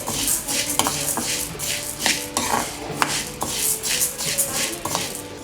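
Toor dal being dry-fried in a pan for mamidikaya mulakkada pappu, with steady metallic scraping and clinking of a spatula stirring against the pan, a continuous close-up rhythm of short knocks over a soft background hiss.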